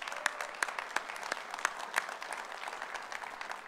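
Audience at a Missouri Baptist Convention annual church meeting breaking into applause, a moderate wash of clapping with several sharp individual claps standing out, sustained and fairly even throughout.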